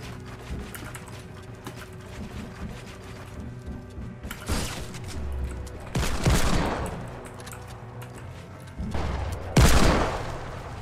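Gunfire in the video game Fortnite: three loud bursts of shots at uneven intervals over a low, busy game background, with no one talking.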